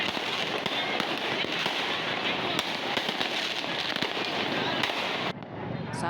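Firecrackers bursting and crackling in rapid, dense succession during a street clash between residents and a motorbike gang in Makassar, loud and continuous, with voices mixed in beneath the blasts.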